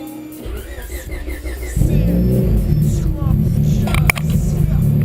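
A 650 hp twin-scroll turbo Honda Civic engine starts and runs at a steady, loud idle close by, a deep low rumble that stays constant after kicking in.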